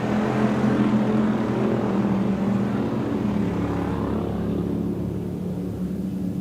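Stock cars racing on an off-road dirt speedway, a steady droning roar of several engines heard from a distance, constant and even in level, with no talking.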